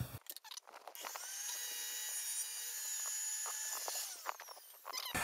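A saw trims a wood piece for a military shadowbox, making one sustained, loud cutting whine of a few seconds, opened and closed by brief clicks and knocks.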